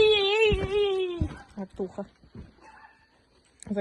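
A dog whines in a long high cry, then gives a few short yips, with a voice briefly talking nearby.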